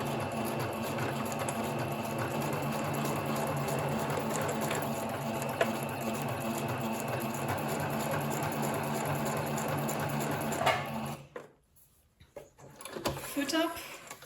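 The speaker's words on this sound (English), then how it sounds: "I'm just going to do a simple straight stitch right here" A sewing machine runs a continuous straight stitch along the side of a pocket on a craft project, a steady close whir for about ten seconds before stopping, followed by a few faint handling sounds.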